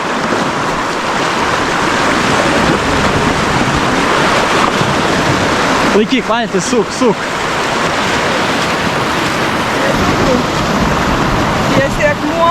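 Roaring water rushes steadily near a mill on the Dubysa river, a continuous loud broadband wash heard from a boat, with people talking briefly partway through.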